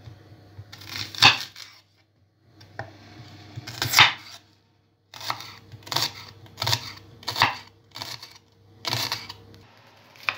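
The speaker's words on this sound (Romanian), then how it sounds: "Tăiem ceapa julien." A knife chops onion into julienne strips on a board, giving a series of crisp, close thuds and taps in uneven bursts with short pauses between them and no voices.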